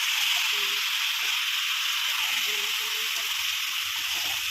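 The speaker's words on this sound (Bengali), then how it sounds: "এবারে পরিমাণ মতো জল দেবো" Pumpkin and prawns fry in a pan as water is poured in, producing a loud, steady sizzling hiss close up, with faint voices in the background.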